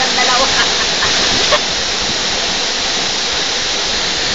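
Waterfall close by: a loud, dense, continuous rushing roar that holds steady throughout, with a few faint splashes audible early on.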